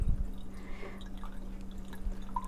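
Water is poured onto newly arrived potted plants sitting in soil, heard as faint, close trickling and a few soft drips over a low steady hum, with no voices.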